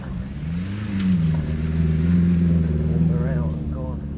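A Ford Focus engine drones and revs steadily while the car drives through a field, a low humming tone rising and falling slightly, with a voice talking over it.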